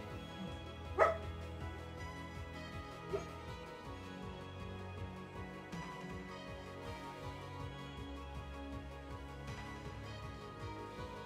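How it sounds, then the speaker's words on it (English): A sleeping dog barks and yips while dreaming, letting out one sharp bark and later a softer yip, faint and sparse over a quiet, steady background. "I don't want to have her keep barking and yipping."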